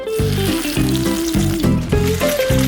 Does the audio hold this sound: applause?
no